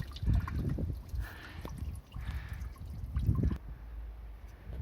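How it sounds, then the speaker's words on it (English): Coolant water drips and trickles from the loosened water pump housing of a 2015 Skoda Octavia vRS with an EA888 TSI petrol engine, in faint, irregular bursts of splashing with quiet pauses between them. "when I've cracked off the first couple of bolts on the pump, I've had more water coming out"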